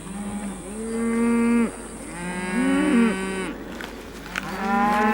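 Fulani dairy cattle in the Sahel low and moo repeatedly, several long, close calls overlapping one another over a steady background hiss.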